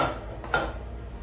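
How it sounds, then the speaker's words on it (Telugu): A metal kadai is picked up and set down on a stove burner in a home kitchen, giving a single short, close clank over a low background hum. "బాండీ తీసుకొని స్టవ్ ఆన్ చేశాక బాండీ తీసుకొని"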